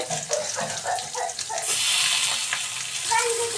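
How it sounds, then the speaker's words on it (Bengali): Potatoes fry with cumin paste in a pan, starting with a quiet voice talking, then a steady, close hissing sizzle that continues to the end. "জিরে বাটা দিয়ে ভালোভাবে আলুগুলোকে ভেজে নিই"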